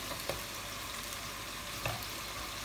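Cabbage, bacon, onion and mash pan-frying and starting to catch on the bottom of the pan give a steady, close sizzle, broken by a couple of brief stirring knocks, with no talking.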